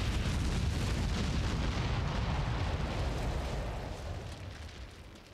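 An artillery shell fused too long, bursting in the ground beneath barbed wire: a dense, roaring rumble of explosion and debris that fills the clip loudly and slowly fades toward the end, with no voices.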